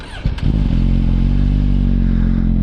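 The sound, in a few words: Suzuki GSX-R 1000 motorcycle with Yoshimura AT2 slip-on exhaust starting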